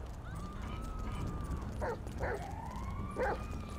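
In a GTA 5 game, a dog gives a few short barks and yelps at mid distance over steady background game noise, with faint clopping mixed in.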